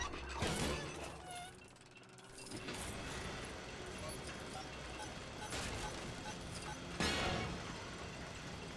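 A mechanism is cranked in the LEGO DC Super-Villains video game, a quiet ratcheting, clicking and creaking sound that plays in steady repeated turns under soft game music and ambience.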